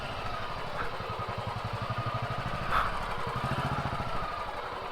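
A motorcycle idles steadily near a monastery parking area in the Sikkim mountains, its low, even engine pulses running throughout at close range with no talk.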